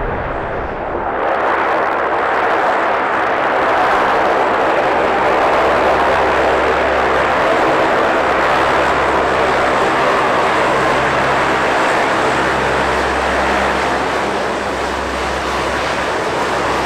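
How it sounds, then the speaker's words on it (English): A C-130 military transport aircraft lands on a newly upgraded dirt runway at Fort Drum, New York, its loud, steady propeller and engine roar filling the scene throughout with no talking. "now you're going to see some of the planes come out here."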